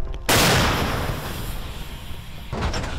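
A 2S3 Akatsiya self-propelled howitzer fires a single shot with an abrupt, very loud blast, followed by a long rumbling roar that slowly fades, then a second burst of noise near the end.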